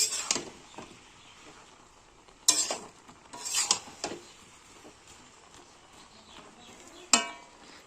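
Jujube pickle being mashed and stirred in a pan as its water cooks off: sharp, intermittent scrapes and knocks of a spoon against the pan, with a faint sizzle between strokes.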